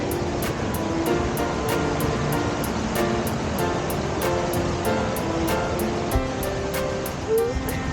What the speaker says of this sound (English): checking out some waterfalls from Sue's Falls.